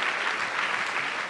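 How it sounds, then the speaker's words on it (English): An audience at the Tony Elumelu Foundation Entrepreneurship Forum 2017 gives steady, dense applause filling a large hall, a continuous wash of clapping with no pauses. "let's put our hands together for all of that very, very distinguished panel"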